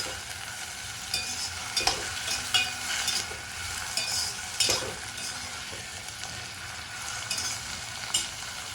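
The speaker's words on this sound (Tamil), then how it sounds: "நல்லா வதங்கணும், நல்லா வதக்கிடுவோம்." Pirandai (adamant creeper) with garlic and curry leaves is sautéed in a pan, giving a soft steady sizzle punctuated by repeated spatula scrapes and taps at an uneven rhythm.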